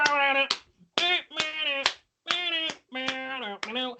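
Sharp claps land in an uneven rhythm, roughly one or two per second, mixed in with a melodic voice singing or humming throughout.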